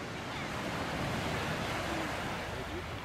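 A swollen mountain river rushes hard after rains, a dense, steady roar of churning water that stays loud and unbroken from start to finish.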